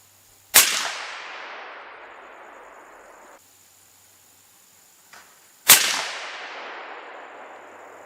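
Two loud, close rifle shots from a .338 Weatherby RPM firing 185-grain ammunition, spaced about five seconds apart, each a sharp crack followed by a long fading echo, with a faint thump between them.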